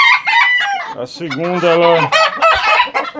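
A hen and a rooster are released together for mating. The rooster lets out a drawn-out crow among clucking, close by, while someone speaks Portuguese around it.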